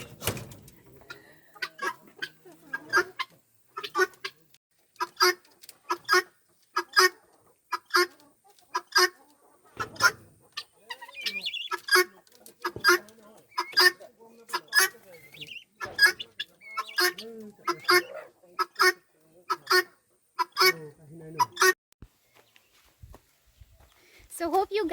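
Guineafowl and chickens call on a farm in Guwahati: a long run of sharp, evenly spaced cackling bursts repeats with a steady rhythm, close and moderately loud over an otherwise quiet background.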